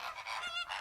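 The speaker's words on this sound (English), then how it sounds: "That's what flamingos sound like." Flamingos honk in a short burst of nasal, goose-like calls, several overlapping honks close and clear with no talking.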